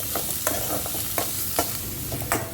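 Two finely chopped onions sautéing in a pan, a dense, close sizzle throughout with repeated scraping strokes of a spatula stirring them at a steady rhythm, no voices.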